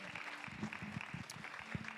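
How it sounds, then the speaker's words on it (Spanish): A church congregation claps in a steady wash of applause, fairly faint and continuous, with a few louder individual claps and a murmur of voices. "Give a big applause to the Lord."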